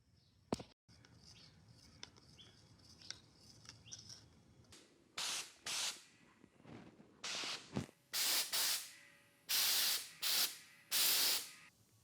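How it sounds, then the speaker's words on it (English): Enamel paint blasting from a high-pressure spray gun in a series of about six loud, sharp hissing bursts, each lasting under a second and separated by short pauses, with quieter handling noises before them. "This is still enamel paint, but it's shot with a much higher pressure, so it levels out a little bit easier."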